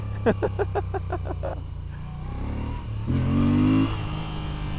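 A Moto Guzzi V7 Sport motorcycle engine pulls hard through a small wheelie, a rough mid-pitched drone that builds and swells near the end, with a short pulsing burst of voice near the start.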